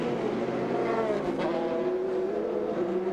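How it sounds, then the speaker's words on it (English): A race car accelerates hard out of the pit lane during a 2001 American Le Mans Series race at Laguna Seca, its engine note loud and close, rising and shifting pitch over about three seconds. "And out goes the number 50 car."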